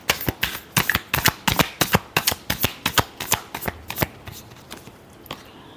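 Tarot cards shuffled by hand in quick, close, crisp riffling bursts that run rhythmically for several seconds, then slow and fade at the end.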